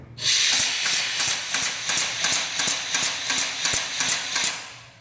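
A power hammer in a forge pounds at full stroke, its heavy rhythmic blows landing about twice a second, loud and close, with a hissing mechanical wash between strikes.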